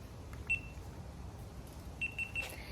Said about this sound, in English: it beeps 3 times to tell me that the recording is completed